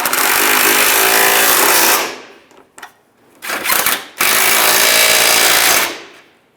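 A power tool tightens headlight bolts on a 2003-2011 Honda Element, loud close rattling hammering bursts of about two seconds, a few short blips, then another long burst.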